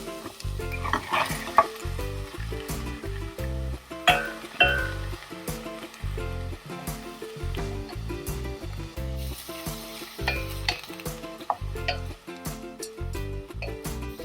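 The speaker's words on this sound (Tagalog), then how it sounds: "Now I put shrimp." Shrimp sizzle in a frying pan with onion for Filipino ginisang monggo, stirred with a spatula in rapid repeated scrapes and clinks over a steady frying hiss, close and continuous.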